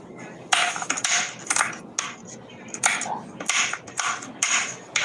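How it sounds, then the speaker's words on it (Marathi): A knife finely chopping dry fruits on a board, close and crisp, with quick irregular bursts of cuts separated by brief pauses. "अशा पद्धतीने सर्व ड्रायफ्रुट्स मी कट करून घेते"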